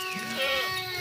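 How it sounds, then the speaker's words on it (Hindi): Rajanpuri goat bleating on a farm, one short wavering bleat heard close and clear, with a voice faintly present. "ये देखें माशाल्लाह गुलाबी बकरी है"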